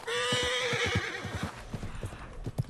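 A horse in Red Dead Redemption 2 lets out a loud, shrill whinny, then hooves clip-clop in quick, uneven trotting beats close by.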